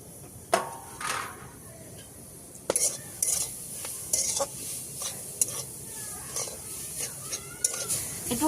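Grated coconut being stirred in a hot wok (karai) for kadam phool pithe, with scraping spoon strokes and clinks against metal over a soft sizzle, close and fairly loud, coming in irregular bursts.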